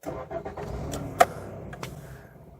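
An early fuel-injected project car sits warm at a low idle, a steady engine murmur with one sharp click partway through and faint clunks near the end.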